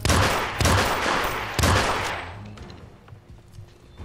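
Pistol shots ring out in a Hitman Beta game, three loud sharp reports spaced about a second apart, each followed by a decaying echo that fades into quieter background sound.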